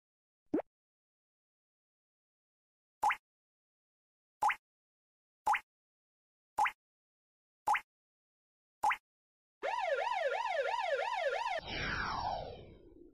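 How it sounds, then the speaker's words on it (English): Cartoonish ambulance siren in a kids' educational word-learning game app with a hippo teacher, preceded by a series of short, evenly spaced electronic clicks, then a loud wavering wail that switches to a falling tone and cuts off. "Ambulance."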